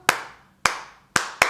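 Four sharp hand claps ring out in an uneven rhythm within a children's Bingo song, two spaced wide apart and the last two closer together, loud and close with no voices over them.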